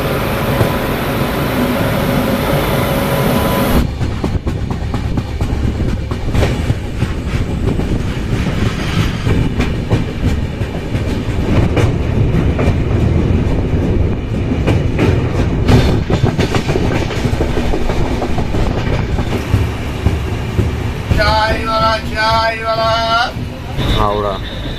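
The Puri Howrah Superfast Express runs at speed, a loud continuous rumble and clatter of wheels on rails that fills the whole stretch, with a faint high squeal near the end.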